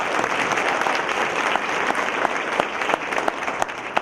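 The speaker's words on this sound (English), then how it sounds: "The second, yes, applause please." Audience applause at a gathering honoring Hmong educators, a dense, steady clapping from a large crowd that fills the whole stretch.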